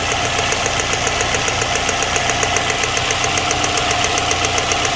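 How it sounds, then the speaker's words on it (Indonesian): A running Honda Harrier engine misfiring, with a steady, rapid knocking tick and crackling, irregular spark firing, loud and close, continuous throughout with no voices. "bunyi percikan apinya kedengeran ya."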